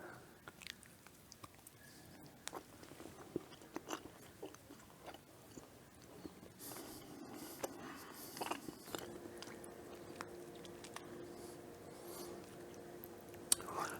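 Soft bites and chewing on homemade cinnamon roll caramels, faint and close, with small crunches and squishy mouth sounds spread across a quiet background.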